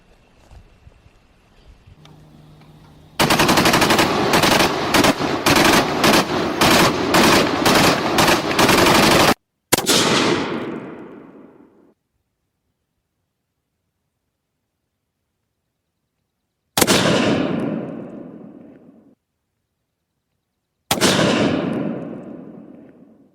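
Rifle gunshots fired at long range while recreating a famous sniper shot, starting with a loud rapid burst of repeated reports, then three single heavy shots spaced several seconds apart, each ringing out into a long decaying echo.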